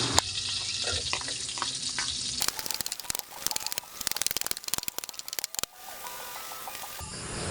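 Garlic sizzling in a hot pan after meat has been set aside, for a Filipino sautéed sponge gourd with misua noodles; steady close frying hiss with crackling bursts and a few clinks of stirring, no talk.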